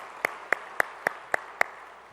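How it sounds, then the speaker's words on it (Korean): A church congregation claps in praise during worship, six crisp, evenly spaced claps in a steady beat, moderately loud and clear with no talking over them. "우리의 찬양을 받아주신 주님께 영광의 박수 올려드리겠습니다"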